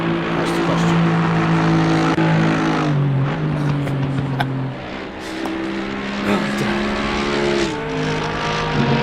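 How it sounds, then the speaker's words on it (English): A steady engine drone with shifting pitch runs throughout, a racing car in Assetto Corsa Competizione revving and changing gears, with faint talk underneath. "I enjoy the engine sound as well."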